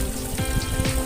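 Water rushes steadily into a hydroponic DFT tank used for growing lettuce, a loud, dense, continuous splashing flow heard up close.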